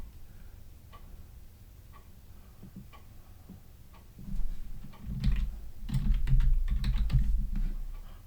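Keys on a computer keyboard tap in sparse, light clicks at first, then thicken into faster, louder bursts of typing close by, with no speech.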